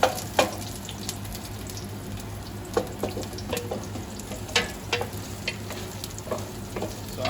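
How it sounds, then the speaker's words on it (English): Meat for chilli sizzles and sautés in a pan, a steady close crackle broken by several sharp stirring scrapes and clicks, with no talking. "I'm just going to let that sort of saute and caramelize"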